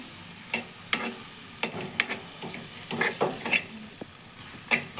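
Masala spice paste for a chappan kaddu squash curry is fried and stirred in a pan, with repeated close spoon scrapes and clinks at an uneven pace over a low sizzle.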